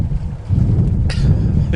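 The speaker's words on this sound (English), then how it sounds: "Well, we're having a bracing sail. It's blowing about 20 knots" Wind of about 20 knots buffets the microphone aboard a sailboat, a constant low roaring gust with water splashing against the hull.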